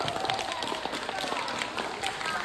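Audience members at a magic and comedy show clap to cast a vote, giving scattered, moderately dense applause with individual claps standing out across the crowd.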